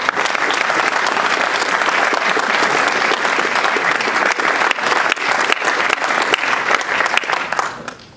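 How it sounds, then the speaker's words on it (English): Sustained applause from an audience at the 2013 San Leandro State of the City address, honoring local business community members; dense, steady clapping for about eight seconds before tapering off at the end. "I'd like all of the members of our business community to stand and be recognized and receive a round of applause"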